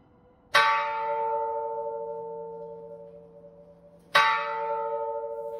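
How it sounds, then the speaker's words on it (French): A church bell in the Armenian mountains rings for the first time, two loud clear strikes several seconds apart, each leaving a long shimmering hum that slowly fades in a quiet setting. "La cloche sonne pour la première fois"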